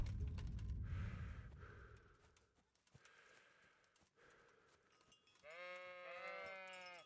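Sheep in the medieval game Kingdom Come: Deliverance bleat in a loud, harmonic call near the end, after a stretch of quieter game ambience with soft footsteps.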